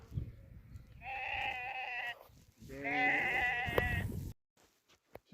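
Sheep on a farm give two long, loud, wavering bleats, each lasting about a second, close by, followed by quiet with a few faint knocks.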